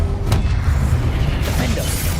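A Confringo fire-blast spell in Hogwarts Legacy lands as a deep booming burst with a crackling blast tail, followed by rumbling game effects, loud and close.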